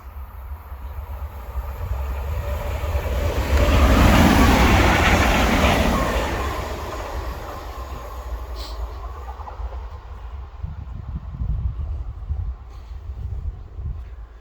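An electric multiple unit train rumbles past, building to a loud roar midway and then fading into a steady low hum with faint wheel noise.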